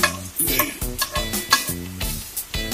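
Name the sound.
cloves dry-roasting in a pan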